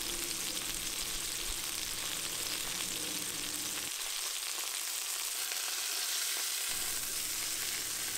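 Fish steaks for chraimeh sizzle steadily in a hot pan, a loud continuous frying hiss that dips briefly in the lower range midway but never stops, with no talk.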